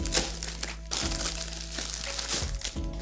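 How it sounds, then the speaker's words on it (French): Packaging from a black smartphone box crinkles and crumples close by. Plastic rustles continuously, broken by a few sharper cracks and soft thunks as the package is handled and opened. "C'est parti, déballage, on va tout de suite voir à quoi il ressemble"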